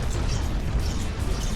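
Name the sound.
cannon fire explosions in video game From The Depths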